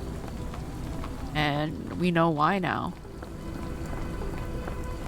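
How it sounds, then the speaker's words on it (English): Steady rain hisses throughout in the dark setting of the video game Sherlock Holmes: The Awakened, a constant wash beneath someone talking briefly in the middle. "It's raining and it's dark."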